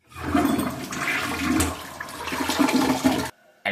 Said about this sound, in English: Then I flush myself down the toilet.